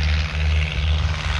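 Propeller airplane engine droning near an airport, a steady loud low hum with broadband rushing noise that holds constant throughout the short moment, no voices over it.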